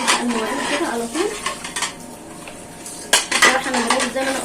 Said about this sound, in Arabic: انا هنبدا المواعين كده على طول